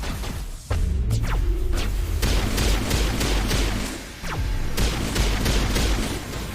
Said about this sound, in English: Good lord, this gun is fucking awesome.